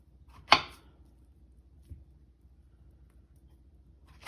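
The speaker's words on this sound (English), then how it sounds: "So after peeling our plantains, we're gonna go ahead and cut it." A knife cuts through peeled plantains on a board, one sharp chop followed by a softer tap and another cut at the end, sparse and close in a quiet room.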